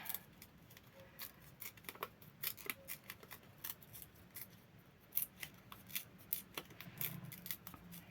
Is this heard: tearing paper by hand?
yes